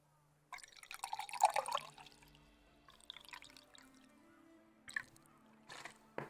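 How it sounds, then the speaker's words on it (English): Water drips in The Witcher 3: Blood and Wine. Soft, close splashes and trickles arrive in scattered bursts, separated by near-silent pauses. "Water. You can listen to it here. We make some water ASMR"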